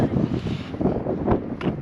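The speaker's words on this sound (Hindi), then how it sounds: "हवा की आवाज़ पता ही चल रहा होगा कितना तेज़ है। बहुत तेज़ हवा है" Strong, cold wind on the Everest base camp trek between Thukla and Lobuche, gusting in uneven surges with rumbling microphone buffeting, close and loud, with no voices.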